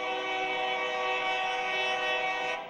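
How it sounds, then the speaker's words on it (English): A loud Union Pacific freight train passes close by on a street-side track, with a strong, steady rumble and a sustained blaring horn tone running unbroken throughout. "This is a freight train, actually."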